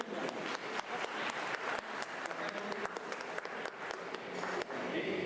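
An audience at a 2012 gathering in Peruíbe claps for James Carrion, a dense, sustained burst of many hands applauding at moderate loudness, filling the whole stretch with a faint voice mixed in.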